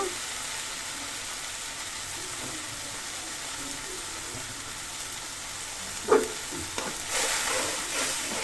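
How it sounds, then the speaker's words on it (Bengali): Spice paste sautés in a pan with a constant hissing sizzle, broken near the end by a brief knock and a few stirring scrapes as the frying grows slightly louder. "মশলাটা ভালো করে কষিয়ে নেব"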